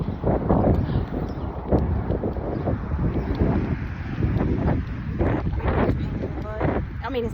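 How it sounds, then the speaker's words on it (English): Gusty outdoor wind buffeting the microphone on a walk to the park, a steady broadband rumble throughout with bursts of wind noise, and occasional voices mixed in. "I love how the wind is"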